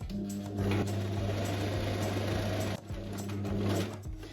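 A sewing machine runs a steady gather stitch across a summer dress, its close, even motor hum broken by one short pause before it sews on to the end.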